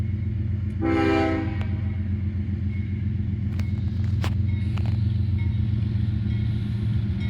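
A freight train led by three locomotives, unit 5403 in front, rumbles past in Greenwich, Ohio with a loud steady low drone, a short horn blast early on and scattered sharp clanks.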